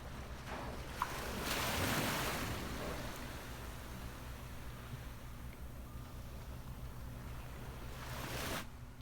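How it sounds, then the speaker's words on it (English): Gentle ocean waves washing onto a quiet Florida beach at low tide, a soft continuous surf wash with a slightly louder swell near the start and light wind, faint and distant with no voices. "let's just take a minute and listen to the beach"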